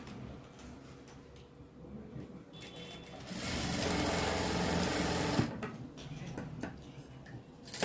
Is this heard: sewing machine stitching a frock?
yes